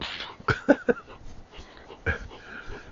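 Casper, a five-year-old dog, whimpering close by in a few short, high whines and yips, broken by quiet pauses.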